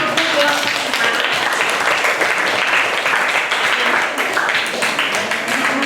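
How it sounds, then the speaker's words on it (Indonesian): Students in a university classroom clap together during a biology lesson on fungi, a dense burst of applause lasting several seconds with a few voices mixed in underneath. "Oke, tepuk tangan."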